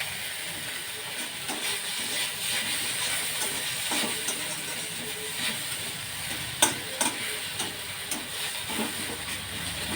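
Fresh green chili fries in a pan, with a constant soft hiss and sizzle alongside faint scattered scrapes and one sharper knock, heard alone and fairly quiet.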